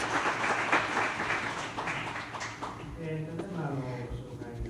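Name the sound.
audience applause welcoming a speaker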